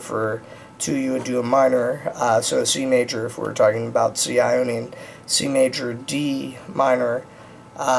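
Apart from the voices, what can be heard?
No distinct noise like a dog, phone or traffic.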